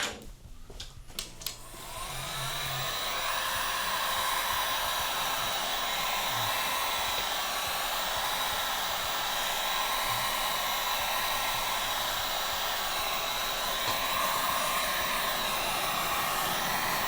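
A heat gun blows hot air onto an old drum head: after a few handling knocks, a steady loud whooshing roar with a constant fan hum starts and continues uninterrupted.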